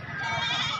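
A goat, apparently a Makkhi Cheeni breeder goat, bleats in a busy livestock market, one sustained nasal cry held for nearly a second over a steady murmur of crowd noise.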